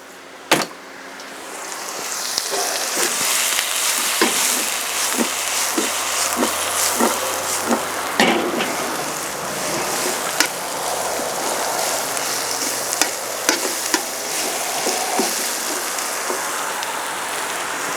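Pepper steak stir fry with red pepper flakes sizzles in a pan over a coal fire, giving a steady broad hiss with scattered sharp pops and clicks. No one speaks.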